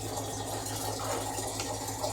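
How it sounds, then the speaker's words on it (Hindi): Water pours steadily into a large kadhai during the making of Punjabi methi kadhi pakoda, producing a continuous close rushing, splashing wash that holds level without pause. "तो गाइस इसमें डल रहा है पानी।"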